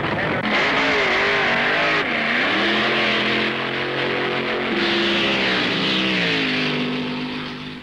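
Drag racing at the 1970 Indy Nationals, an overhead cam Ford Mustang against a blown Hemi Chrysler: a loud, continuous engine roar that climbs and wavers in pitch as the cars rev and accelerate, with no voices.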